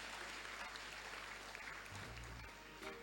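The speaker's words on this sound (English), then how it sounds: "I believe you can do much better with the applause." An audience at a youth summit claps, a faint, sustained patter of applause under a low hum and background noise.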